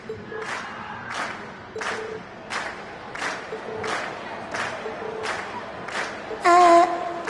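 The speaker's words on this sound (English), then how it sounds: "we've heard your cheers loud and clear" Concert crowd cheering in the game Trails of Cold Steel, rhythmic bursts of cheering and clapping repeating about every half second, fairly loud, with a brief bright chime near the end.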